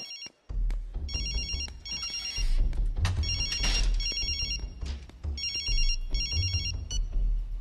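A telephone rings repeatedly in bursts of electronic trills, loud and close, over low background rumble and a brief noisy swell midway, with no voices.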